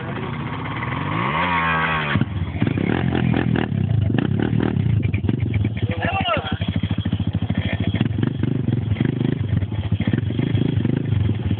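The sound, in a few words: engine of a stuck vehicle running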